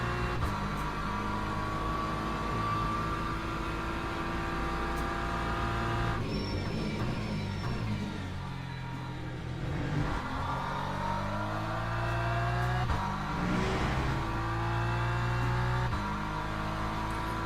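A BMW race car engine in Le Mans Ultimate drones steadily under load, its pitch climbing through the gears with shift dips. Gearbox whine and tire noise run alongside it continuously, and no one speaks.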